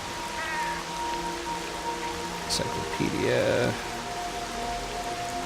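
Heavy, torrential rain in the video game S.T.A.L.K.E.R. Shadow of Chernobyl hisses steadily throughout as a dense wash of falling water, while someone talks over it.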